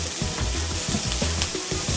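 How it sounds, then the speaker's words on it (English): Vegetables sizzle and fry in a pan while being stirred, giving a steady crackling hiss with soft scraping and clacking of the utensil throughout and no talking. "I'm just going to give them a stir"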